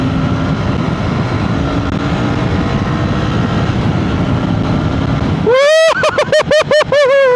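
A Royal Enfield Bear 650 motorcycle runs hard in third gear toward about 7000 rpm; steady roaring wind and road noise give way to a loud, close engine note that climbs in pitch in several quick surges.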